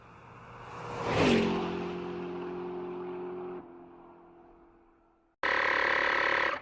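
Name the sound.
portable rechargeable tire inflator pump running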